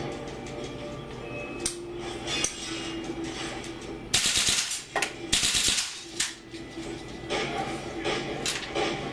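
A WE AK74-UN open-bolt gas blowback airsoft rifle fires full auto, bursts of fast sharp clacking shots close by, with pauses between bursts and faint voices nearby.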